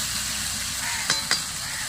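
Chicken skin and scraps sizzle steadily in their own rendered fat in a pan with potatoes, a close, continuous frying hiss broken by two quick stirring clinks near the end.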